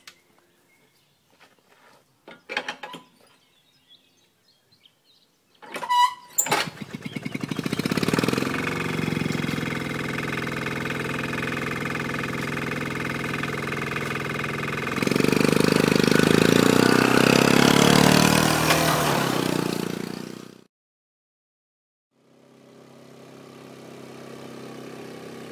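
A vehicle engine drones steadily while driving, growing louder and rougher partway through, then cutting out before faintly resuming; short scrapes and clicks come before it starts.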